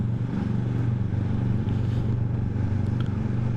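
A steady motorcycle engine drones continuously at close range while riding at night, with a low rumble and constant wind-like noise from riding.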